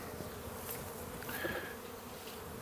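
A honeybee colony hums steadily during a nucleus hive inspection on a warm day, a constant close, soft buzz with occasional individual bees passing nearer, no talking.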